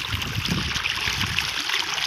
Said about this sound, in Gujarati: ये पानी जा रहा है